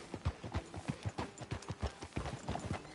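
A horse's hooves clip-clop in Red Dead Redemption 2 on PS4 as it rides into town, a loud, steady, close rhythm of hoof strikes with no speech over them.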